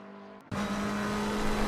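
Race car lapping Laguna Seca in Assetto Corsa Competizione during a league race, engine note jumping in suddenly and holding a steady loud drone with a high whine, close and alone.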